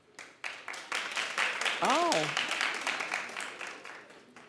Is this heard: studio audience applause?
yes